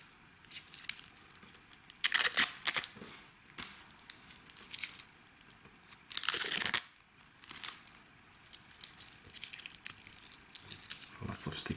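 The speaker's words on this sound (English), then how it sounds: "So let's remove the stickers." Protective stickers peeled off a Nuun Type II blue quartz watch, giving two distinct bursts of crinkly plastic tearing between quieter handling rustles, close and fairly soft.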